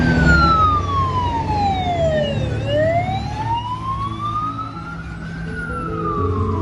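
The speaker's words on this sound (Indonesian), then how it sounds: "keluarlah truk pemadam kebakaran" A toy fire truck plays an electronic wailing siren that sweeps down and then slowly back up, loud and close over a low electronic hum, with no voices.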